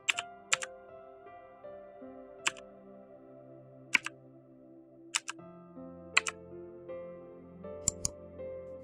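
Someone types a CAPTCHA on a computer keyboard, a few sharp, separate key clicks spaced unevenly over a quiet background, with no one talking.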